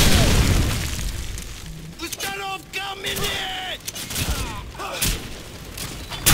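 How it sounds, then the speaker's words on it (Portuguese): Gunfire and booming explosions in the Call of Duty 4: Modern Warfare video game, heavy blasts at the start and bursts of shots scattered throughout, mixed with other game sounds and players talking. "Da onde vem esse tiro, gente?"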